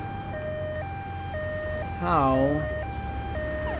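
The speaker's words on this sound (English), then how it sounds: "I was forgetting which button it was to turn off the siren." Vehicle siren in the video game Grand Theft Auto III, a two-tone wail alternating steadily in pitch, with a brief spoken word from a player partway through.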